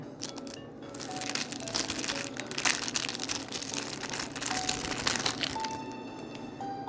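Pokémon trading card booster pack from a Sword & Shield Charizard Ultra Premium Collection being torn open, with continuous close crinkling and crackling of foil wrapper over steady handling noise, no talking.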